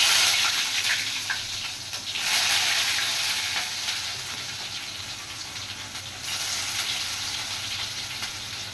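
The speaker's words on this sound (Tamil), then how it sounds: "நல்லா வந்து ஹீட் ஆயிடுச்சு எண்ணெய். வெங்காயத்தை போட்டுக்கலாம்." Chopped onions dropped into hot oil in a home kitchen, frying with a steady loud sizzle and hiss that swells around two seconds in and again near six seconds, no voices.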